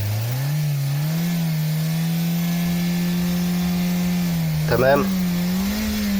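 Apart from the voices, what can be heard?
car engine revving while waiting for cooling fans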